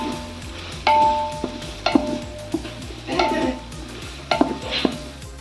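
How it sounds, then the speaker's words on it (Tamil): Tomatoes sauté in hot oil while a spoon stirs and scrapes the pan for Ambur-style chicken biryani, with a low background sizzle and several sharp metallic clinks of utensil against the vessel. "தக்காளி நல்லா வதங்கணுங்க. ஒரு 3 to 4 மினிட்ஸ் நல்லா வதங்கணும்."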